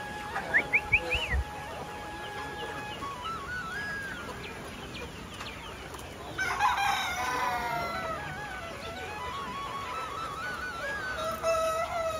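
Village chickens on a rural poultry farm, a rooster crowing in rising calls near the start among steady clucking and scattered bird chatter, with a busier burst of clucking later; birds fairly close, no talk.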